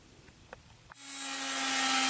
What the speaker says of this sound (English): I decided to try a power sander this time